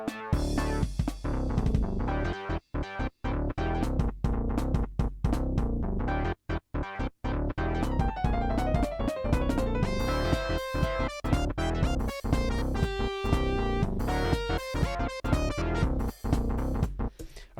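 Syncopated, swing-flavoured theme music from the Sonic & Knuckles video game, loud and continuous with punchy drum hits, a few brief dropouts and a bright melodic line, with no voices.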